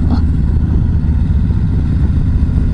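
A motorcycle fitted with a Rinehart slip-on exhaust muffler drones steadily while riding, a dense low rumble with wind noise, close and loud throughout.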